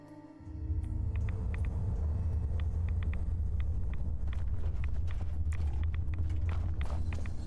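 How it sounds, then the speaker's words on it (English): Deep, steady storm rumble from Fallout 4 swells in after half a second and then holds a continuous low roar. Scattered faint clicks and thuds sit on top of it, and no one speaks. "There's a weird storm right now."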